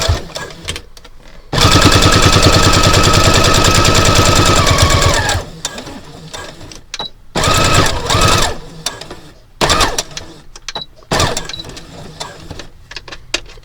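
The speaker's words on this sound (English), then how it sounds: "And I do make sure I do a back stitch." Sewing machine back-stitching fabric for a card wallet, a loud steady burst of rapid stitching followed by several shorter runs with pauses between them.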